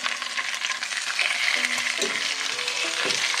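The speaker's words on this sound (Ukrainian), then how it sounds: "Друга ще трошечки буде смажитися." Bavarian-style pork knuckle fries in a pan with a dense, continuous sizzle and occasional utensil clinks and scrapes, heard close up with no talking.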